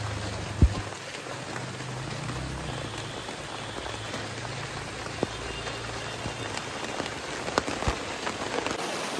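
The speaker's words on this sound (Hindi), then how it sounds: "बारिश के बूंद अभी ज़्यादा भारी पड़ रहा है।" Heavy rain pours down in a dense, steady hiss, with a few sharper drop impacts standing out now and then and no one speaking.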